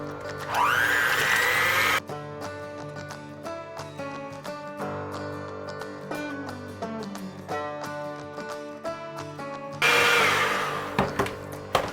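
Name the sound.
electric mixer creaming eggs and butter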